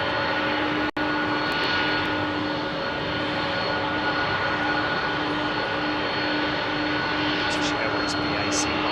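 A British Airways BAC One-Eleven jet departs Heathrow at sunset, giving a steady, loud engine roar with sustained whining tones, broken by one sharp click early on.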